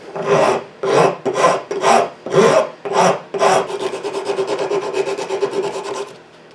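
A hand file or rasp rounds the corners of a wooden tenon: seven distinct rasping strokes in a steady rhythm, then a quicker run of short, continuous scraping, close and clear with no talking.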